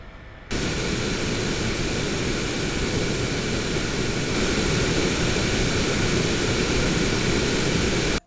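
GMKtec NucBox K7 mini PC fan running under load in performance mode, a loud, steady broadband whoosh that cuts in abruptly and holds constant.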